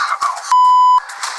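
A single steady electronic beep sounds loud for about half a second, cutting in as a quiz show buzzer between brief bursts of talk.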